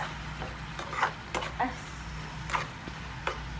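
Ridge gourd frying in a pan as it is stirred, with a soft steady sizzle broken by several light scraping and clinking stirs, close by and fairly quiet.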